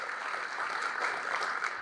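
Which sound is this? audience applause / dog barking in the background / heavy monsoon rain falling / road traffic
audience applause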